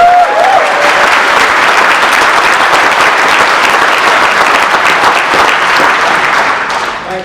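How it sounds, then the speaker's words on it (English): A large crowd at a political festival gathering in London bursts into sustained, loud applause with dense overlapping claps that hold steady throughout before tapering slightly at the end. "Thank you for the applause"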